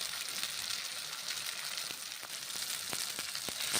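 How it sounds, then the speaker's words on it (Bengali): Paneer sizzling and frying in a pan for a coriander (dhaniya) paneer dish, a steady broadband hiss with occasional sharper pops and spatters, close and continuous with no talk. "এইভাবে পনির রান্না করে নিচ্ছি"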